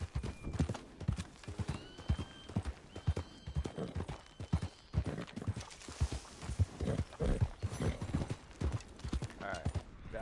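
Horse hooves clip-clopping at a steady gait in the video game Red Dead Online, with a couple of whinnies rising above the rhythmic footfalls and faint talk mixed in.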